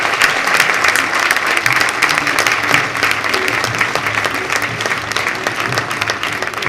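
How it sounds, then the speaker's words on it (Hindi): At a women's day awards ceremony, an audience bursts into loud, sustained clapping, with dense, crisp hand claps packed close and holding steady from start to finish. "आपकी सबकी भरपूर तालियों में"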